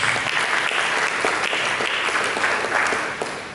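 Church congregation applauding during a sermon, a dense, steady roar of many hands clapping close by for several seconds, tapering slightly at the end with no voices over it.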